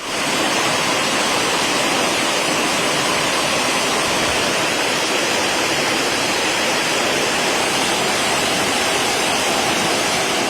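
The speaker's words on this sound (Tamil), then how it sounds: "தென்காசி மாவட்டத்தில் உள்ள குற்றால அருவிகள் ஆர்ப்பரித்து கொட்டுகின்றன" Courtallam waterfalls swollen by heavy rain roar in a steady, loud, broadband rush of cascading water that never lets up, with no voices.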